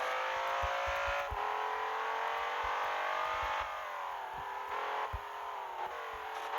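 A car accelerates hard out of a curb on the Nürburgring in the Assoluto Racing game, either a BMW M5 or a Mercedes C63. Its engine note is loud, steady and close, rising in pitch, with a few brief thumps underneath.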